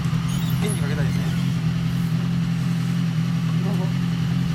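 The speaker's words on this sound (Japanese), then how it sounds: "エンジンかけたいですね。" A Yamaha RZ350 two-stroke motorcycle with a collector chamber exhaust idles steadily close by, a constant low drone throughout with faint background chatter.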